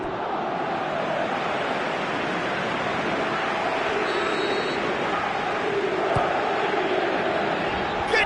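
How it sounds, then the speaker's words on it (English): Stadium crowd in Pro Evolution Soccer 2018 roars in a dense, continuous wash of cheering and calling throughout, loud and steady like surf, with no clear single voice standing out. "Crowd calling for him to shoot."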